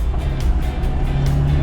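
Engine of a quirky 1980s car driving on an open road: a steady, close mechanical drone with a low, rumbling pulse, loud and continuous, with no talking.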